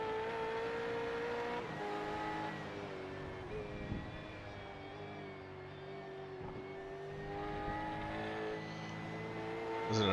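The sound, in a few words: V8 race car engine in a sim racing video game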